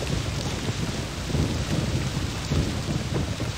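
Steady rain falling on water in the video game realMyst, a dense continuous hiss with a low rumbling undertone, fairly loud and even throughout with no voices.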